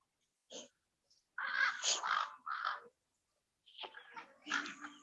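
Crows caw in the trees, a short call followed by bursts of harsh, overlapping caws at moderate distance, with pauses between groups.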